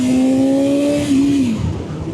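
A sport motorcycle engine revs hard at high RPM, a loud, close, sustained buzzing tone that holds steady before dropping away as the throttle eases.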